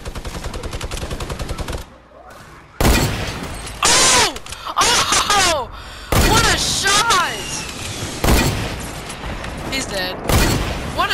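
Sniper and other gunfire in a shooter video game, with sharp loud shots cracking out in separate bursts about every two seconds, mixed with game sound effects and a person talking over them.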